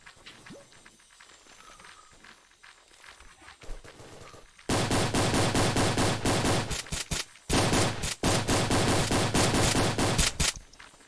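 Rapid automatic gunfire erupts in a Roblox shooter game, quieter scattered noise giving way to loud sustained bursts of machine-gun fire with a short pause midway.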